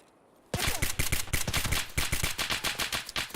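After a half-second hush, a rapid burst of loud gunfire erupts in Escape from Tarkov and continues as a sustained, sharp volley of close shots with no talk.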